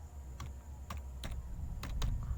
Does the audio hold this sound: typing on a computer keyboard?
yes